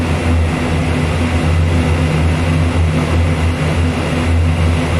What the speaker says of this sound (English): I'm going to burn these engines out very soon.